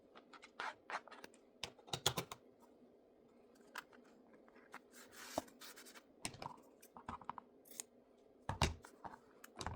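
Scissors snip through small pieces of material while a miniature doll-house armchair is being made, with a series of sharp, close cuts and crisp clicks separated by brief quiet gaps and light rustling.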